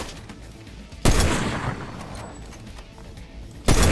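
Two loud, close gunshots ring out in Fortnite, one sharp crack with a long decaying echo followed a few seconds later by another, over faint background game noise.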